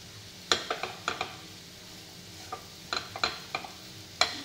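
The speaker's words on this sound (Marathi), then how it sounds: "कंटिन्यू मिक्स करतच असं हलवायचा शिरा." A spoon stirs mango and jaggery sheera in a pan, giving scattered scraping clicks and light knocks in uneven bursts over a faint sizzle, close and moderately quiet, with no talking.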